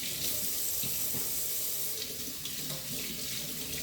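A kitchen tap runs a steady stream of water while peppers are rinsed under it, a continuous close hiss and splash that fills the whole moment.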